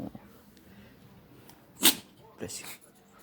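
A dog sneezes once indoors, a sharp close burst followed a moment later by a softer second snort, with faint household noise and a person's voice nearby.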